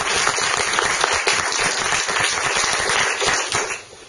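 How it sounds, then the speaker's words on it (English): A conference audience gives a round of applause, a dense steady clapping that holds evenly for several seconds and then fades toward the end. "I think we should give them another round of applause"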